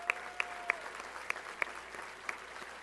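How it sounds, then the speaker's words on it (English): A small gathering at a Women In Red 2023 event applauds quietly, sparse individual claps standing out sharply over a faint, thin patter of clapping. "And so one more applause for them."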